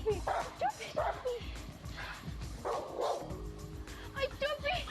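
A dog whimpers and gives short yips and barks amid a chaotic scene, with several people shouting and talking over it throughout.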